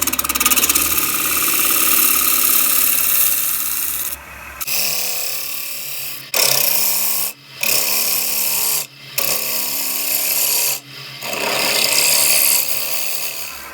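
A wood lathe spins at 1200 RPM while a tool levels the rim of a spalted apple ogee bowl, giving a loud, steady rasping cut broken by several short pauses as the tool lifts away.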